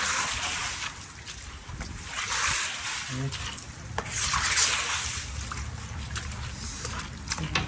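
Heavy rain falls in Kathmandu with water running in the street, a dense, steady wash of noise, close and loud. Voices talk under it.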